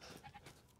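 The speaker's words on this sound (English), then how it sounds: "Hey, that's a goat." A goat bleats faintly in Resident Evil Village, a short quiet game sound with a wavering, nasal tone that lasts under a second.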